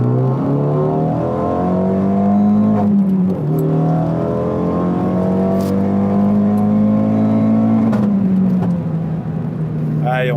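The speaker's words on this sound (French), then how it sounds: "Alors on va faire la petite accélération en insertion." A Renault Megane 3 RS Stage 2 running on E85 accelerates hard from inside the cabin, its engine note climbing through two gear changes with a loud, steady rising drone.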